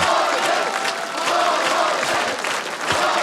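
A full hall audience at a talent-show performance cheers and applauds after a dance, with continuous loud clapping and crowd shouting that stays dense and even from start to finish.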